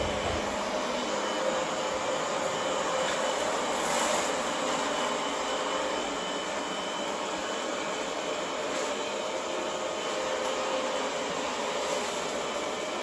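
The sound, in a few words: Xiaomi Mi Robot vacuum cleaner running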